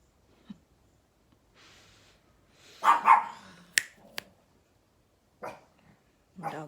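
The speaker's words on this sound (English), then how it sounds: "Doggy had to put in her praise the Lord there too" A dog lets out a couple of short, sharp barks in a quiet room, one clustered pair near the middle followed by a fainter yelp, with brief clicks and a snort-like sound between them.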